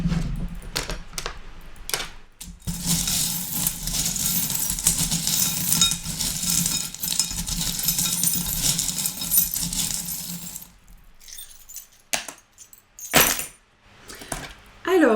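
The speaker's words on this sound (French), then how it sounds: "On va voir avec les breloques. Donc je vais juste attraper." Small metal fortune-telling charms picked up and jangled together, a bright continuous clinking rattle that stops, followed by a few scattered taps and clicks, with a voice speaking at times.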